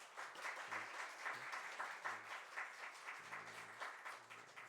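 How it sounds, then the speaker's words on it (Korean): A church congregation at a Christmas service applauds together, clapping steadily and fairly faintly from across the room for a few seconds. "우리 박수 한번 해주시죠"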